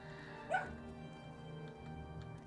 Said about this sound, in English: Who's he barking at?